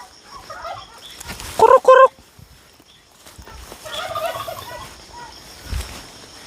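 Turkeys gobble in two loud bursts, then softer gobbling and clucking follows, close by with a quiet outdoor background.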